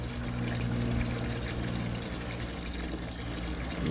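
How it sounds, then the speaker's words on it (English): Water from a hose runs into a pot, a steady rushing flow with a low mechanical hum beneath it, close and continuous throughout. "we gonna go over here and fill this up now with some water"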